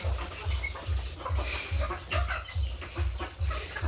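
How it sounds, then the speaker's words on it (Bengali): Laying hens cluck in a steady, rhythmic series of low, close pulses, repeating roughly twice a second throughout, with no one speaking. "শীতের দিন আসলে কি হয় মুরগিগুলো অনেক ডিম দেয়"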